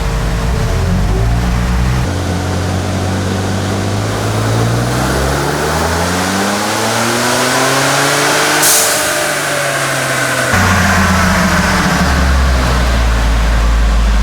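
A tuned Ford Bronco 2.7L engine revs hard and loud on a first full pull, pitch climbing steadily then falling back, with a whooshing intake and exhaust roar throughout.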